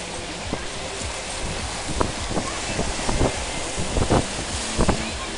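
Sea waves slap and splash against a boat hull in an irregular rhythm on a crossing from Den Helder to Texel, heard close under steady wind noise.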